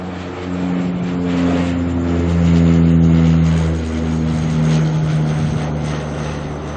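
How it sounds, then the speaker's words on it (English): A propeller aircraft making a left-hand turn overhead at Auckland Airport, a loud droning engine with distinct humming prop tones that rise and fall as it passes close above. "Look at those props. Making the left-hand turn over the top of us here."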